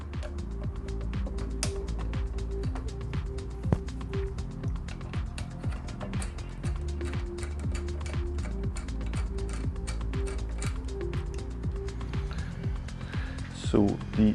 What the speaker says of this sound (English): I'm going to remove this other bolt as well, so I have a bit more room to work.